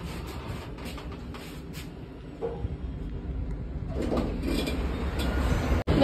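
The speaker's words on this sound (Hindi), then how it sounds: "गाइस ये यहाँ मेट्रो आई है" Metro train pulling into a station platform, a low rolling rumble building steadily beneath ambient station noise, ending with a sharp clunk near the close.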